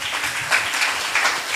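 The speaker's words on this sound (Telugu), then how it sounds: "గట్టిగా చప్పట్లు కొట్టండి" A church congregation claps loudly and continuously together, making a dense, steady wash of applause with slight swells and no voices over it.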